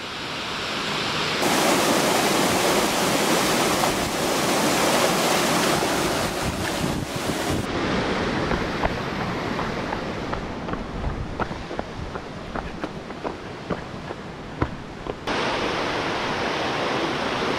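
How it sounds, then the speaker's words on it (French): Cascade des Anglais waterfall on the GR20 trail in Corsica, a steady loud rush of falling water close by, broadband and continuous throughout with wind buffeting the microphone at times. "La cascade des Anglais."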